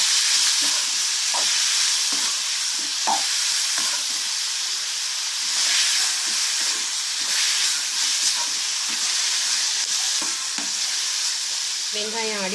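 Chopped onions frying in a pan for beef masala while being stirred: a steady, bright sizzle and hiss runs the whole time, broken by frequent soft scrapes and taps from the stirring spoon.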